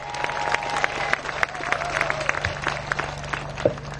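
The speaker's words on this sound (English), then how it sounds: "Give yourself a big round of applause." Audience at a Texas Tea Party evening event in The Woodlands applauding, dense clapping with scattered louder claps and a low background hum, steady throughout.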